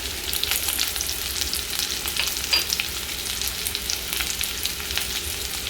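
Chopped garlic fries in a pan with onion and green chili for a chili paneer dish, a loud, close, steady sizzle with light stirring scrapes and no talking.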